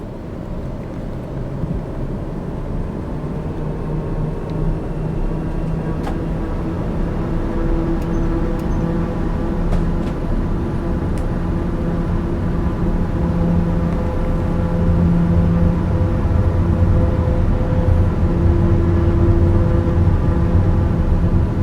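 Steady engine roar of an airliner making a short takeoff with full flaps at Gatwick in a flight simulator, a constant loud drone with faint tonal hum, no voices.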